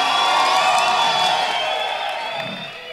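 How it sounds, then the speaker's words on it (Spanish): A crowd at a BDM Gold rap battle event in Guatemala City cheers and whoops in sustained, overlapping shouts, loud and close, easing off slightly toward the end. "¡Ey, un fuerte aplauso para Misionero que se vino a echar la vuelta!"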